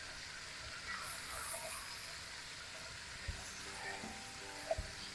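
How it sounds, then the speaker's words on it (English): Beef bourguignon stirred in a pan with a slotted spoon, a soft low sizzle running steadily with a couple of faint spoon knocks against the pan. "Since I got this slotted spoon here, I'm just going to use that and stir this up a little bit."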